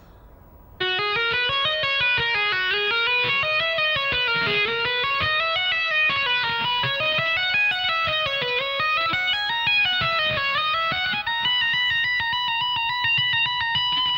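An electric guitar plays a slow tapping and trill sequence, with continuous rippling notes rising and falling smoothly over a sustained tone, moderately loud and without voices.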